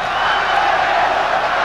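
Boxing crowd cheering steadily throughout the Aaron Pryor vs Alexis Arguello fight, a loud, continuous arena roar with no break.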